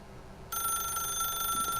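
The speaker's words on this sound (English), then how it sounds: "then pick up the phone." A telephone rings in The Stanley Parable, a bright electronic trill that starts abruptly after a quiet moment and keeps going steadily at close range, with no talking over it.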